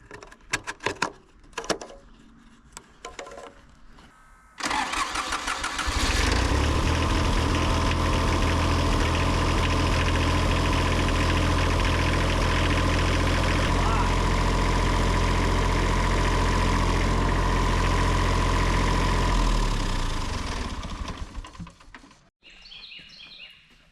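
A cheap old excavator's engine cranks with scattered clanks for several seconds, then catches and settles into a loud, steady diesel idle that runs for about fifteen seconds before cutting off, with birds chirping faintly afterward.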